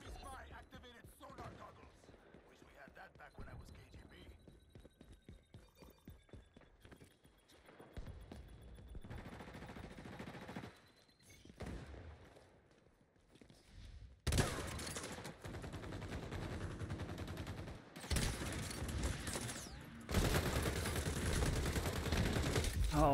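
Shotgun blasts and rapid gunfire in an XDefiant online shooter match, sparse shots early giving way to dense loud bursts of automatic fire, with brief talk in between.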